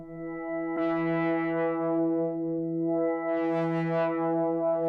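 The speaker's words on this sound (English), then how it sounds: "So this is the soft distortion." A sustained tone on a ROLI Seaboard 2 synthesizer with rich harmonics swells with a gritty, soft-distortion edge, brightening twice as the note is held.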